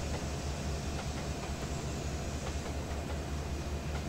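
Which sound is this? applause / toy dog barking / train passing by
train passing by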